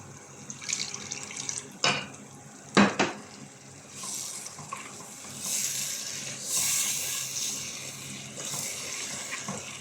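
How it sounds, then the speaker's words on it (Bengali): A little water is poured into a frying spice mixture for a fish curry, giving short splashes and a trickling pour alongside clinks of a utensil against the pan. "এই যে দেখুন তো পানি দিয়ে দেবো সামান্য"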